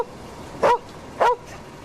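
A friendly mongrel dog gives two short, sharp barks about half a second apart, fairly close, against a quiet background.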